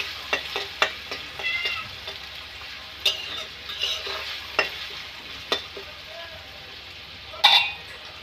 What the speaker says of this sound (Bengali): পেঁয়াজ কুচিগুলো আমরা মিডিয়াম আঁচে আমরা ভেজে নেব। নেড়ে চেড়ে ভেজে নেব।